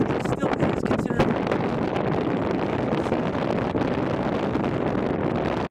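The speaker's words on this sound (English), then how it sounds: "The wind is picking up out here." Wind blows steadily outdoors on Cape Cod, buffeting the microphone with a loud, continuous rumble and gusty roar throughout.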